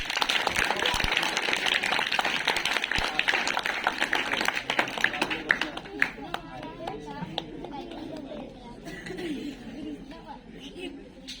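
An audience at a school program on girls' education breaks into dense, lively applause that gradually thins into scattered claps, with chatter and children's voices mixed in.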